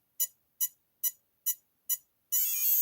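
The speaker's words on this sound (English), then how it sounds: "Wait for a steady beep" An RC car's electronic speed controller beeps during calibration at full brake: five short, evenly spaced high beeps, then a sustained steady tone, clear and close with no voices.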